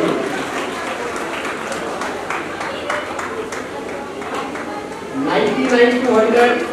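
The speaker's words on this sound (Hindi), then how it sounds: "तालियां बजती रहनी चाहिए।" Applause from an audience at a school annual day, a steady wash of clapping under ongoing speech that swells louder toward the end.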